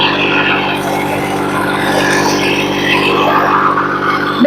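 The diesel engine of a John Deere 420 tractor runs with a loud, steady droning hum and rough harmonic rumble that stays constant throughout and cuts off abruptly at the end.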